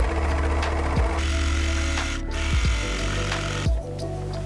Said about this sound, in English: Then finish by overlocking